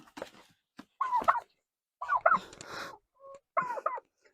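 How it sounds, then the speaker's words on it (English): A large broad-breasted bronze turkey, nearly 50 pounds, gives several short gobbling and clucking calls in bursts, moderately close and fairly quiet, with no talk. "So this is a broad-breasted bronze turkey here."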